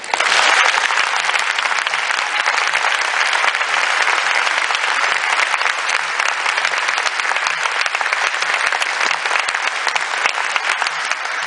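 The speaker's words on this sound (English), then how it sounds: "would you join me in a huge hearty round of applause for the folks that did the real work" Audience applause for kids who just performed in a short school concert, loud and sustained dense clapping from a large crowd, steady throughout with no talking.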